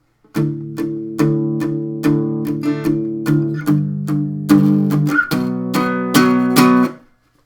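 Power chords on a guitar are strummed down in steady, ringing strokes to close out a country song, clear and close with no voices.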